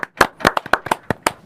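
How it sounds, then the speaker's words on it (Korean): A short burst of a few people clapping to welcome a guest on a talk show, about eight separate sharp claps close by with no speech. "우리 박수 한번"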